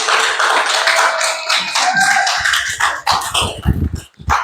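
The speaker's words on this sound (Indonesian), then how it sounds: "beri tepuk tangan untuk kawan kita" Classroom applause for a student group at a coding and artificial intelligence training session, a dense wash of hand claps that thins into scattered individual claps and taps near the end.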